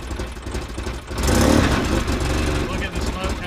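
A 2005 Polaris Ranger XP 700 with a rough-running engine and an exhaust leak gets a short blip of throttle, swelling into a loud, uneven roar up close while people talk over it.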